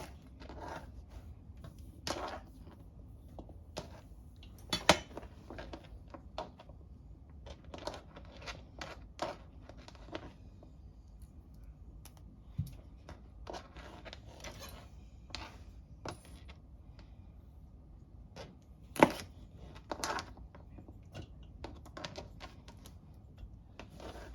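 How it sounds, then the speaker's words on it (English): A knife chops through a bunch of green beans on a board, cutting them in half with sharp, irregular clicks and crisp snaps, a few strikes louder than the rest, with no talking. "So I'm gonna take a bunch of beans, but these I'm only gonna cut in half this time."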